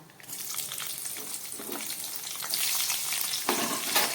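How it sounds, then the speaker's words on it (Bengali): Hot oil crackles and sizzles as chopped green chillies hit the pan after tempering spices, the hiss swelling louder in two bursts partway through. "ফোড়নটা ভাজা হয়ে গেছে এবার দিয়ে দিচ্ছি কেটে রাখা কাঁচা লঙ্কা"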